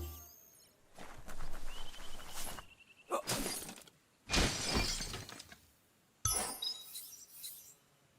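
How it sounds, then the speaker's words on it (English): A box gets smashed in the video game Biomutant, giving four separate crashing, shattering bursts with brief quiet gaps and clinking debris between them and no talk. "You shouldn't worry about smashing up the box."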